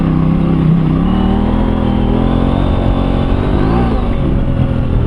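Motorcycle on a country road between Drake and Tenterfield in northern NSW, accelerating up out of a gully; a steady, loud engine drone with rising pitch, close and continuous with no talk.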